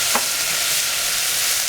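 Potatoes and masala for soya bean kuzhambu sizzle and fry loudly in a pan, a continuous close hiss with a brief stirring scrape near the start.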